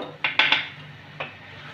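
A spoon scrapes and knocks against a pan while kheer and coconut mixture is stirred, giving three quick clinks close together, then a single softer scrape after a pause, all close by with no talking.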